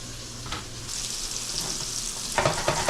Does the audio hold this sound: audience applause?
no